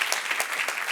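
A church congregation claps for a brief moment, with dense, even applause from a roomful of people.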